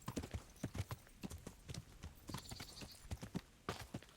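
Horse hooves clip-clopping in the medieval game Kingdom Come: Deliverance, a quick irregular run of close, faint hoofbeats with no talk.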